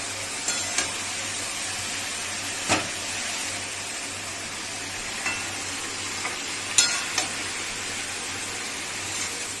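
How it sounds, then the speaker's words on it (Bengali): A vegetarian pumpkin and pea chorchori fries and is stirred in a pan. A steady hissing sizzle runs throughout, broken by occasional spatula knocks and scrapes, with no speech. "এবার নেড়ে চেড়ে এবার ঢাকা দিয়ে দিলাম"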